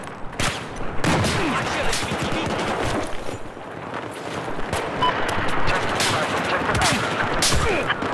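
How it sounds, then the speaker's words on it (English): Dense gunfire in the Battlefield 4 Shanghai map, loud rapid bursts and sharp shots crowding together in sustained bursts, with possible faint voices underneath. "we're getting sniped from a higher roof."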